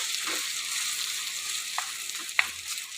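Pork pieces, washed in hot water and starting to boil, being stirred in a pot, with a steady hiss of sizzling and a few soft scraping strokes from close by.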